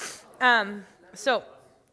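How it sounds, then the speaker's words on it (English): A single close sneeze, a sharp inhale followed by a voiced burst, then a short vocal sound after a pause. "I don't want to sneeze on food."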